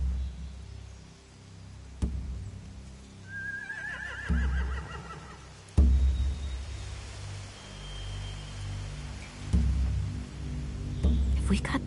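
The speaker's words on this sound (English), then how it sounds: "They have horses." Horses in The Walking Dead game let out a clear whinny amid snorts and hoof shuffles over a low ambient hum, with occasional thumps and speech nearby.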